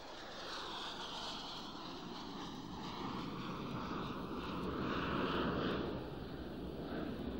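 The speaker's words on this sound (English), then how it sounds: "The most popular example of vectored thrust is the Pegasus engine that powers the Harrier jump jet." A Harrier jump jet with a Pegasus vectored-thrust engine roars in a steady, dense jet rumble and whine, swelling slightly louder partway through before easing back, with no voices.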